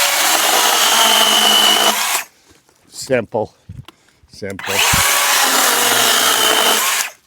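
A battery chainsaw trims knots on wooden beams, whining loudly for about two seconds, stopping while a voice speaks briefly amid small clunks, then starting again in another long, steady high-pitched buzz.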